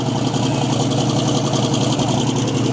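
A twin-turbo LS-powered box body drag race car with its engine running loud and steady, a dense continuous roar and whine filling the whole moment without pause.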